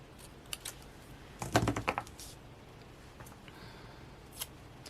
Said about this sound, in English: We're just gonna use scissors.